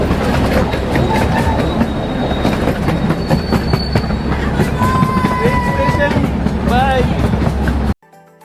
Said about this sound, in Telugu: సో ఆ పార్క్ చుట్టూరా ఒక రౌండ్ వేయడానికి అనేసి ఈ ట్రైన్ అనమాట